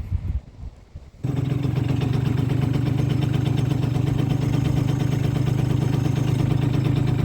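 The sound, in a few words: modified Yamaha Zuma 50cc scooter engine idling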